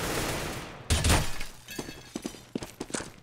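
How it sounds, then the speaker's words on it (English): Gunfire in Counter-Strike: Global Offensive during a competitive match, a loud dense burst of shots followed by several sharper scattered cracks and impacts. "Do I get the wall bang here?"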